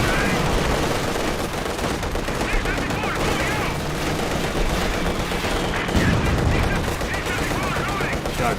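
Dense, continuous gunfire from the video game Company of Heroes 2: rapid machine-gun bursts and rifle shots layered into a loud battlefield din with explosions, a voice talking over it.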